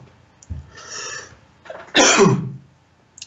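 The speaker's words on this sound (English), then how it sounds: "I apologize for coughing." A person coughs twice, a short rough cough followed by a louder, harsher one, close to the microphone with quiet in between.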